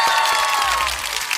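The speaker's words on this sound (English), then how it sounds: "Round of applause," A brief burst of dense applause and cheering rings out loudly from start to finish, with a faint whistle-like tone running through it.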